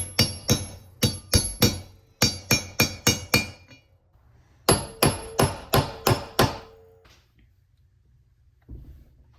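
Bypass valve parts being hammered into a Corvair engine block, three quick runs of sharp metallic hammer strikes, about five blows each, close and ringing, with a faint clunk near the end.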